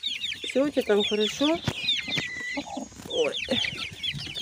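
A broody hen sitting on her eggs gives loud, close clucks and rising churring calls in a steady run, while someone speaks softly over them.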